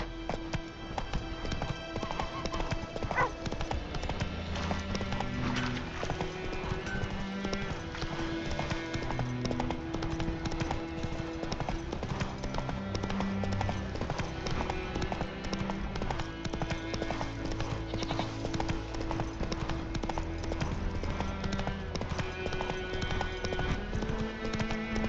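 Rhythmic clip-clop of the horse Roach galloping in The Witcher 3, a steady run of hoofbeats under a bed of game music, with no speech over it.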